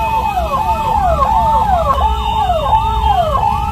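An ambulance siren wails continuously in a traffic jam, its rising and falling sweeps repeating about twice a second, loud and close over a low bed of traffic noise.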